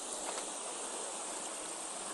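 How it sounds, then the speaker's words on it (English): A small waterfall in Edinburgh rushes in a steady, dense hiss of falling water, close and continuous with no breaks or voices. "and there is a little waterfall."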